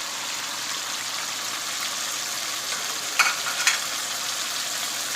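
Cumin seeds frying in hot oil already used to fry taro root, a soft continuous sizzle and crackle at moderate level, with a couple of brief sharper spits near the end and no talking.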